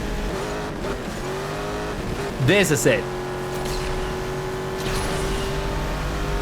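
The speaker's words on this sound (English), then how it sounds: "I'm going in the opposite direction to just basically be alone so you can hear the engine sound" A race car engine in the video game Asphalt 8 drones steadily throughout, a sustained mechanical tone, with a short stretch of speech over it partway through.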